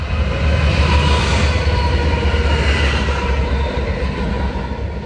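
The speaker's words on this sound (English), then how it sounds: "Bonus train coming by as well." A train rolls past on nearby tracks, a loud sustained rumble and clatter of rail cars lasting throughout, heard outdoors near a roadside statue in West Wyomissing, Pennsylvania.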